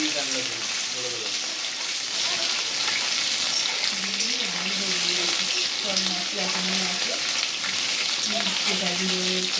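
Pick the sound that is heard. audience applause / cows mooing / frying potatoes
frying potatoes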